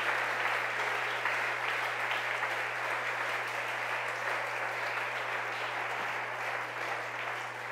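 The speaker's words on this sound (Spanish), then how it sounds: "Démosle un aplauso al Señor" A church congregation applauds steadily at a social-outreach worship service, a dense, even wash of many hands clapping that holds for several seconds over a low constant hum.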